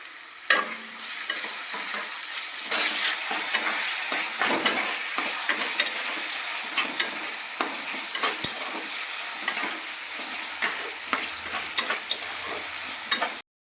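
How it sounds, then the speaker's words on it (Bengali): Onions and spice paste fry in a pan for chicken with spinach, a continuous bright sizzle broken by stirring scrapes and a few sharp utensil knocks, close and with no talking. "তো দেখো মশলাটা একটু ভাজা ভাজা হয়ে গেছে।"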